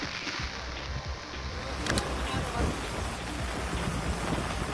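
Dense, steady monsoon rain pouring down during flooding in Patan district, Gujarat, with a constant hiss and low rumble, a brief sharper burst near the middle.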